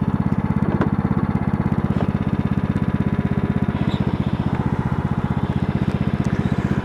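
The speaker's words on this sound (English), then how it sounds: "Think I need to give this lawnmower a tune-up, though." A riding tractor lawn mower engine runs at a steady, close, loud chug with a fast, even pulsing rhythm that needs a tune-up, with no talk over it.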